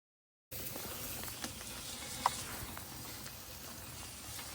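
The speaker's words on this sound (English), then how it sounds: "It has been raining non-stop" Steady rain falls on the Pacific Northwest coast, a soft, even patter and hiss with faint scattered drips, quiet and continuous.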